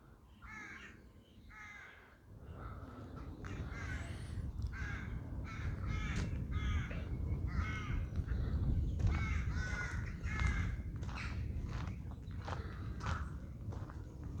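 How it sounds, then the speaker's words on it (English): Crows caw repeatedly outdoors near a village church in Tillingham, Essex, with harsh overlapping calls in an irregular rhythm alongside footsteps and faint background noise. "Noisy crows."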